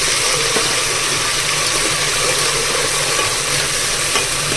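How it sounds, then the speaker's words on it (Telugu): Ginger garlic paste sizzles steadily with onions in a pan while vegetable biryani is cooked, a constant loud frying hiss with faint stirring scrapes and no voices. "ఇప్పుడు దీంట్లోకి అల్లం వెల్లుల్లి పేస్ట్ వేస్తున్నాను"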